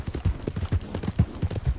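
Horse hooves clip-clop in Red Dead Redemption 2, a quick, even rhythm of soft thuds over a couple of seconds, fairly close and alone without talk.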